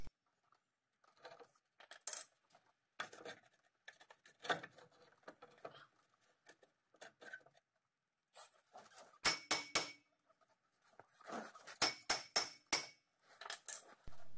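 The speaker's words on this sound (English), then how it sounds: "Time to pound the crap out of the rotor to get it off." Metal clanks and rings as a hammer pounds an old brake rotor off a 2010 Toyota RAV4, sharp separated strikes in irregular bursts, some doubled or rapid, close and fairly quiet with pauses between.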